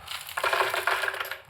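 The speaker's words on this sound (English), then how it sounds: "A little bit of ice" Ice cubes dropped into a smoothie blender jar, a quick rattling clatter of hard pieces against the container, close and fairly faint, settling within about a second.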